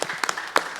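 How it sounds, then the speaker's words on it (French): Applause from the audience at a conference on traditional music and Kaneka, heard as a short burst of clapping with a few louder claps standing out. "Vous applaudir bien fort, s'il vous plaît aussi."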